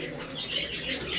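Breeder pigeons in a loft setup give soft coos and a few chirps over a light rustle of wings, all close and unbroken through a brief moment.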